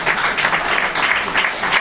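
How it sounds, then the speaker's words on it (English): Dense, continuous applause from an audience at a book launch, many hands clapping together at an even level for a couple of seconds. "Please give a round of applause for her."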